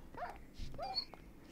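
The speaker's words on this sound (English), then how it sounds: "Oh, I found dogs." Tamed wolves in Minecraft give a couple of short, high whimpering yelps close by, set against a low game background during a zombie apocalypse survival game.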